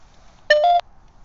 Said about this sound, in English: Step closer to set off the EMF meter